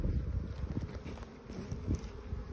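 Honey bees hum and buzz around an open beehive holding summer honey, a continuous close swarm drone with fluctuating loudness.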